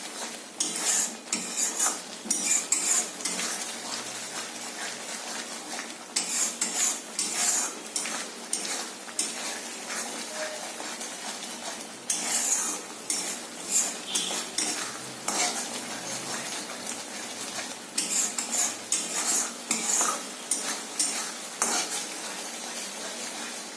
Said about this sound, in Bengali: এবার এটা দিয়ে আমি একটু ভালো করে নাড়িয়ে নেব।